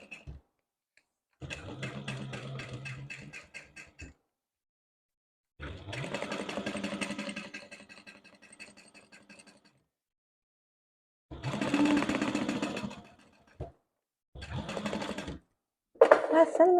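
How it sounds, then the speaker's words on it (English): A sewing machine stitching a tote bag runs in several steady bursts of rapid mechanical chattering separated by silent pauses, close and fairly loud, with brief speech in between. "Now we're ready to sew this up."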